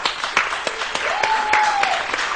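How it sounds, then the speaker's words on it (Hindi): A studio audience on a Pakistani morning show claps for a chef, Rida Aftab, with individual claps distinct and a sustained tone sounding partway through. "बहुत सारी तालियां रिदा आफ्ताब के लिए।"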